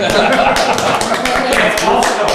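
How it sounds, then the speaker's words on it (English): Audience applause at a San Mateo County Harbor District public meeting, a steady wash of many hands clapping throughout, with faint chuckles mixed in. "It's worth a clap."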